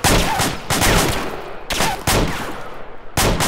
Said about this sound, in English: A lot of gunfire out there.